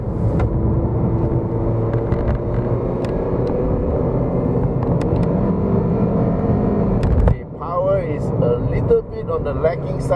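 Kia Cerato sedan being driven in second gear on a hill road, a steady engine drone heard from inside the cabin, dropping away abruptly near the end.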